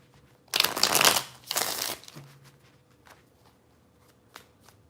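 Tarot cards are riffle-shuffled in two loud, close bursts of rapid fluttering clicks, followed by a few softer taps and card handling in quiet.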